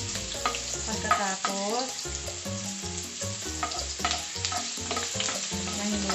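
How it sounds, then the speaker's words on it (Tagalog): Ginger sautés in a pan, with a soft sizzle and stir running under loud background music and a single brief spoken word. "Gisahin natin ang luya."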